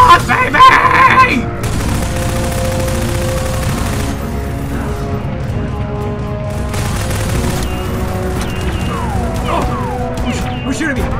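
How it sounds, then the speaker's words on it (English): Dense, continuous gunfire rattles through a Mount & Blade mod battle, volleys and crashing impacts layered over constant combat din for the whole stretch, with voices shouting amid the noise. "Who's shooting me?"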